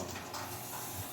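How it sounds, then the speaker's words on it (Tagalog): Water hissing steadily through a float valve as a purifier tank fills, a continuous broadband rushing sound, fairly faint and even, with no talking. "Kung nakita ninyo, sumisirit yung tunog, ibig sabihin na, papuno na po siya."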